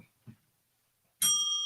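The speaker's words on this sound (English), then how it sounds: "I like this bell. I love that bell." A struck bell rings out bright and loud with sustained overtones after a brief pause, preceded by a couple of faint low knocks.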